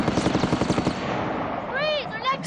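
A rapid burst of gunfire crackles in a 1993 adventure sci-fi action film, a quick run of sharp shots that fades before a voice calls out.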